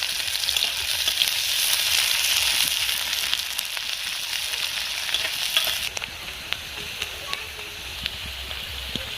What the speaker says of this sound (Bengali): দেখতেই পাচ্ছেন বন্ধুরা কেমনভাবে আমি বেরেস্তাটা ভাজছি